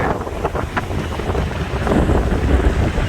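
Strong, steady wind buffeting the microphone in a low roar near Niagara Falls, growing louder and more blustery toward the end, with a faint sense of open water beneath.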